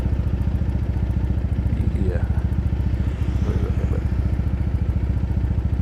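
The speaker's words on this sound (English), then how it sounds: "I just want you to have that sexy AF exhaust sound" A motorcycle engine during a ride through Tokyo, with a steady rapid exhaust pulse loud and close throughout, running alone at a constant pace.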